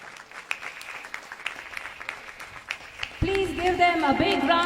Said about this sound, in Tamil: மாணவர்களை அனைவரும் கைத்தட்டி உற்சாகப்படுத்துவோம்